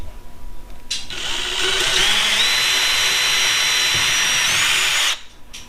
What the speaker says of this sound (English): I'm going to take my 1/8 of an inch drill bit